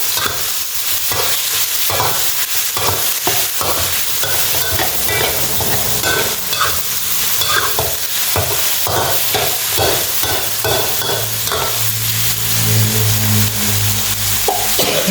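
Pak kan jong vegetables and herbs stir-fry in a pan under a loud, continuous sizzle, with repeated scraping and tossing strokes of the spatula and no talking.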